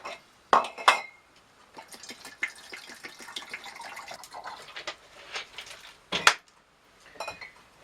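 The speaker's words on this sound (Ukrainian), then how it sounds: "Гарно її сполоскуємо, переливаємо розчин в наступну" A glass wine bottle is rinsed with potassium pyrosulfite solution before bottling homemade wine: liquid sloshes inside, with a few sharp glassy knocks and clinks near the start and again near the end.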